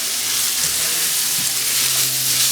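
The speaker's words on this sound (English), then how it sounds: "we're going to cook the onions a bit." Onions cooking in a pan with garam masala, turmeric and cumin give off a steady, close, hissing sizzle that holds evenly throughout without a break.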